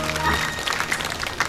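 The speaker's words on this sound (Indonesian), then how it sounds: "Tepuk tangan buat Tuhan." A short burst of dense, steady crowd clapping at a Christian worship service, with a voice carrying over it.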